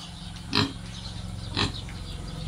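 Native pigs on a farm give two short, loud oinks about a second apart, each standing out over a steady low hum of background noise.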